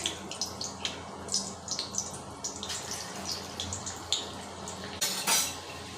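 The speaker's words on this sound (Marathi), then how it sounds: "तेल कडक तापत ठेवलं आहे आता मी याचे भजी सोडायला देणार आहे" Moong dal bhaji batter dropped into very hot oil to deep-fry, with a steady bubbling fry under repeated light clinks and clatters of a utensil against the pan.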